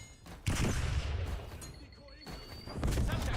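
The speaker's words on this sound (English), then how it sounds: "Sending flashbang." A flashbang grenade goes off in a video game, a loud booming blast followed by a rumbling tail and a thin ringing tone, with a voice talking over it.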